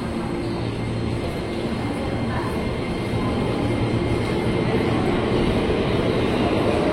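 A JR 205 series eight-car commuter train departs from track 3 at Depok Baru station, a loud, steady rumble of wheels and motors close by, continuous throughout with no talking.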